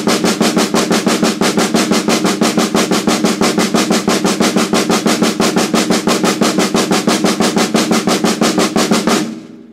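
Double stroke roll rudiment played on a drum in even, rapid pairs of strokes alongside a click track, loud and close, continuing unbroken for nearly ten seconds before stopping abruptly.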